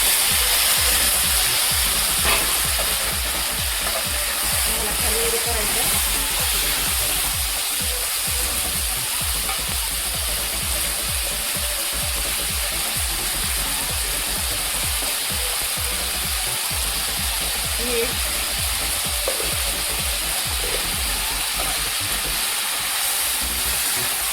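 Chopped tomatoes hitting hot oil in a home kitchen pan give a steady, even sizzle that hisses without break from start to finish, close and moderately loud with no talking.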